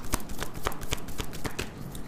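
Tarot cards are shuffled and drawn by hand, a quick run of crisp flicking snaps and papery slaps repeating at close range, with no talking.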